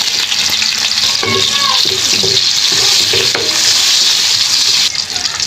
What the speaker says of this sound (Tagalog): pwede na natin igisa yung ating sibuyas dyan